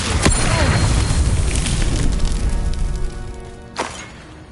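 Incendio and Confringo spell blasts in the game Hogwarts Legacy, a loud rumbling boom with sharp cracks at the start and again near the end, thick with crackling fiery noise that gradually fades.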